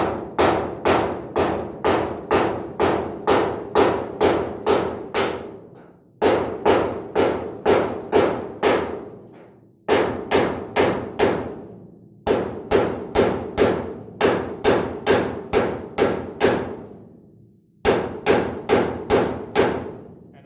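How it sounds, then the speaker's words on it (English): Hammer gently tapping a car's steel drip rail against a dolly held underneath, on a 1964-74 A-body classic car; rapid, evenly spaced metallic taps in bursts of about ten, with short pauses between runs, close and loud, no talking. "So what I am going to do is I am going to tap this gently. I have the dolly underneath about 1/4 inch."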